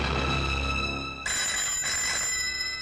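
A telephone rings with a bright electronic bell tone in two bursts, the second starting partway through, clear and moderately loud with no voices.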